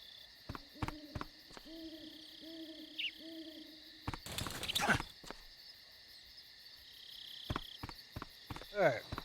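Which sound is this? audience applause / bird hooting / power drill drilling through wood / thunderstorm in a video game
bird hooting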